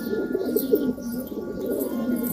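Low, throaty cooing of Punjabi pigeons, including males, rolls on steadily, several birds murmuring close by with soft overlapping burbles and no talking.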